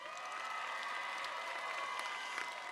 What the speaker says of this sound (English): Let us give them all a resounding round of applause.